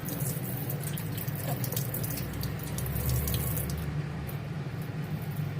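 Tap water runs steadily into a sink while a couple of sprigs of sun-wilted leaves are rinsed for an egg fried rice recipe. The near, constant splashing carries soft squishy handling sounds and no talk.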